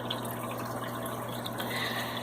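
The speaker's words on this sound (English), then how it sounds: "Now you can see that I've got the drip turned up into more of a stream." A steady, quiet stream of water trickles into a bag holding Philippine blue angelfish as they acclimate, a continuous soft splashing and gurgling heard on its own.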